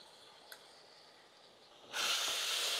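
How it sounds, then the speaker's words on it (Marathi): Chopped tomatoes hit a hot pan in an Indian hotel-style kitchen and a loud, steady sizzling hiss bursts up close, following a quieter stretch with one small clink. "टमाटर व्यवस्थित परतून घेऊ।"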